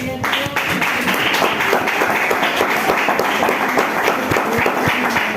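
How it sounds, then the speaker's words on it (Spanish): A church congregation claps together in steady rhythmic unison, a close, full sound of many hands beating in time, held for several seconds. "Dele palmas a Dios."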